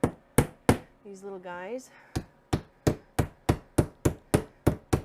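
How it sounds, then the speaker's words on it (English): Sharp hammer taps driving small pieces in with a tiny hammer during a quilt shop renovation, a dozen evenly paced knocks close by. A voice speaks briefly between the early strikes. "He said just hammer them in."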